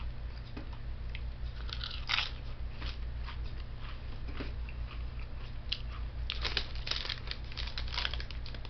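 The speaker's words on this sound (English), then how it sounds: "That's a hell of a potato chip right there." Crunchy potato chips from a 99-cent bag are eaten up close, with repeated sharp bites and crackling chews arriving in irregular clusters over a low background hum.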